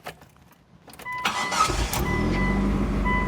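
A car engine with sludged-up oil cranks briefly and catches, then settles into a steady, rumbling run close by at about 2,000 RPM, after a few quiet clicks.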